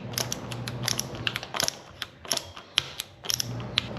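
A shock absorber adjuster is cranked tighter toward its stiffest setting, giving a string of sharp, close mechanical clicks in irregular bursts over a quiet background hum.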